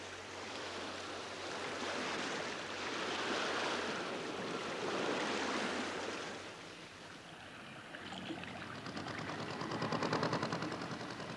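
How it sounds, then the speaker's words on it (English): Water surging and washing across the deck of a racing sailing yacht under way in open sea, a steady loud rushing wash that swells and fades over several seconds with no talk. "Look what a lot of water there is on deck."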